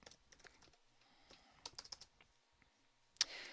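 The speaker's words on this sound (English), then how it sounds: "don't mind my typing" Someone types on a computer keyboard in a quiet room, a quick, uneven run of light clicks with a louder key strike near the end.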